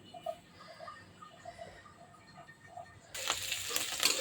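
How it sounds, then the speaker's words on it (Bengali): Onion and chili frying in oil in preparation for frying fish: a faint, steady sizzle that swells into a louder, brighter crackle for the last second, with no talking. "মাছ ভাজার জন্য পেঁয়াজ মরিচ দিয়ে দিয়েছি।"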